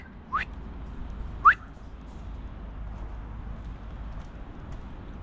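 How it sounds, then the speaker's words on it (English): Two short rising whistles, about a second apart, from a person calling a cat outdoors, sounding over a low steady background hum. "Sometimes he comes when I whistle."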